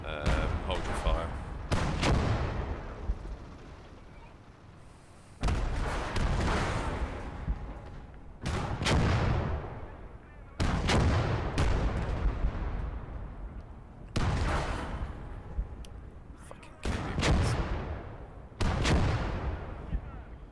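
Heavy gunfire and booming artillery blasts in the WWII strategy game Call To Arms: Gates Of Hell, a series of loud explosive bursts every few seconds, each trailing off into a rumbling decay.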